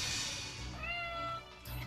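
A house cat meows alone, a short rising then falling cry lasting about a second, close and fairly quiet.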